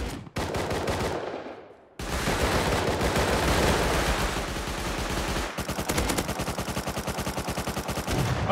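Rapid bursts of automatic gunfire from a battle royale video game, loud and close, with a brief pause and then sustained fire continuing to the end, no voices.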